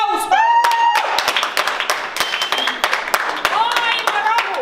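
An audience claps in scattered bursts at a jubilee show, uneven sharp hand claps mixed with loud speech and sung or drawn-out voices over them.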